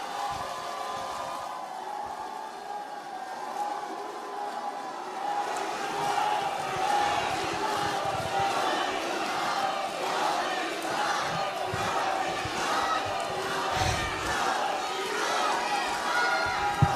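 Crowd at a Democratic Party rally for women's supreme council candidates in Daegu–Gyeongbuk applauds and cheers, a dense, steady roar of clapping and shouting that swells after a few seconds and continues throughout.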